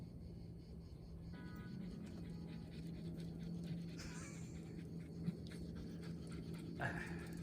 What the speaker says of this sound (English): Shush, you noisy dog.